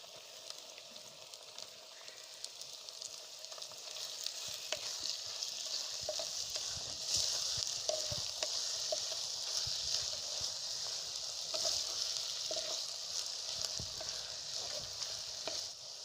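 Onions frying in a pan on a stove for a brinjal curry, a steady close sizzle with occasional soft clinks and stirring, growing slightly louder after the first few seconds.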